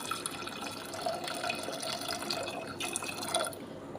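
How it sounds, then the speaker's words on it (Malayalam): Water runs and trickles steadily into a pressure cooker, with small drips and splashes throughout, fairly close and continuous. "നമുക്കിതിലേക്ക് ആവശ്യത്തിനുള്ള വെള്ളം ഒഴിച്ചിട്ട്"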